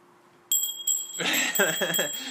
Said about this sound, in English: The Homer Bell means I get to interject.